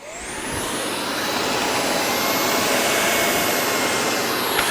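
A Tineco Pure One S70 cordless stick vacuum cleaner running close by, its motor spinning up from the start into a loud, steady high-pitched whine that holds to the end.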